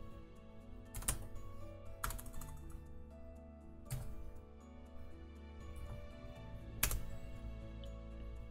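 Keys tapped on a computer keyboard while entering an app name, a few scattered sharp clicks standing out over a quiet background, close by, with no speech.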